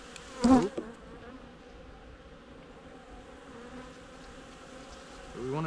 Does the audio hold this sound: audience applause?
no